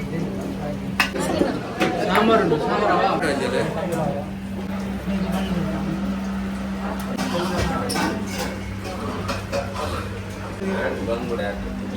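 Dense crowd chatter and clinking dishes fill the air outside a packed restaurant in Mangaluru, steady and close, with a nearby voice talking over the hubbub and a constant low hum beneath.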